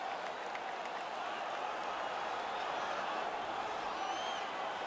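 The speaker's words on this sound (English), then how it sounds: "The home crowd is ecstatic." Home crowd in the hockey video game NHL roaring after a fight, a dense steady wash of cheering and clapping from a large arena audience, even and sustained throughout.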